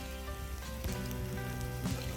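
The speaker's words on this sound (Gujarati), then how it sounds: "વરસાદ ચાલુ છે" Rain falling steadily on a Gujarati village, a continuous hiss of drops over a low tonal background hum, with a slightly louder patch near the middle and another near the end.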